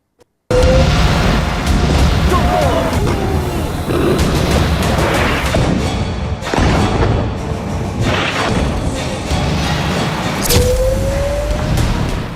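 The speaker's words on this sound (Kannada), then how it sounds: "ಇದೇ ಹೊತ್ತಲ್ಲಿ ಈಗ ಬಿಳಿ ರಂಜಕದ ಬಾಂಬ್ ಸದ್ದು ಮಾಡ್ತಾ ಇದೆ." Loud, continuous rumbling explosions of white phosphorus bombs in the Iran–Israel war, with heavy booms and crackling bursts throughout, dense and unbroken, with no voices.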